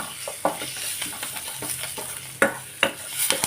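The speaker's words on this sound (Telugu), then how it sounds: "చిట్పట అనేంత వరకు బాగా కలుపుకోవాలి." Spice tempering with asafoetida sizzles softly in hot oil for a cucumber dal, with a spoon giving several sharp scraping stirs against the pan at irregular intervals.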